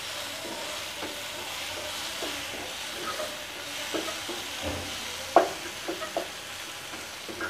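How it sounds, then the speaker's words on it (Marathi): Cashew masala curry being stirred in a pan, a steady soft sizzle and hiss with light scraping taps of the spoon scattered through, fairly faint and without talk. "आता हे मिक्स करूया."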